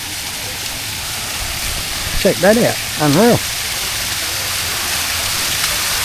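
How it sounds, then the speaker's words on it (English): Small man-made waterfall at the back of a garden restaurant in Ubud, a steady rushing splash of falling water running throughout, with a brief spoken exclamation over it midway. "Got their own little man-made waterfall at the back here."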